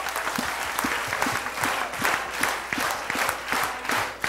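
Congregation clapping at a televised healing mass in church, a dense, rhythmic burst of many hands beating together in near-unison pulses, loud and sustained.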